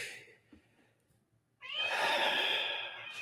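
A cat gives a loud, drawn-out meow that begins about halfway through and holds steady to the end, following a quiet stretch with faint background sounds.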